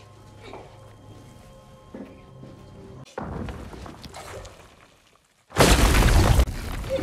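An explosion in a cave brings down a rockfall: rumbling debris, then a sudden loud, broad blast near the end, over quieter ambient sounds before it.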